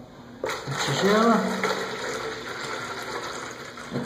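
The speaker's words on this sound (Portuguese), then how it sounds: "Colocar água na tigela." Water poured into a bowl for a self-watering planter made from a large water jug. The gush starts abruptly and runs steadily, close and fairly loud, with a rising filling tone early on.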